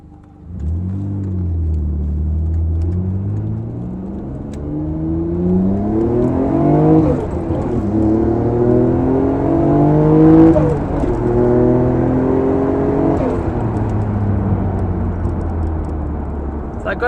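A Nissan Skyline GTR R34 Nismo engine revs while driving, climbing through several rising pulls with deep harmonic growl and gear-change drops, loud and close, with someone talking occasionally over it.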